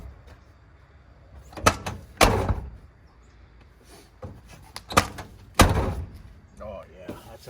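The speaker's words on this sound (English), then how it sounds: "We'll just see how the door closes." A car door fitted with new rubber window felts is shut several times, giving sharp, solid thuds in pairs with quieter handling clicks between, close by; a voice is briefly heard toward the end.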